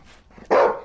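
A dog gives a single loud, close bark, preceded by a brief softer yelp.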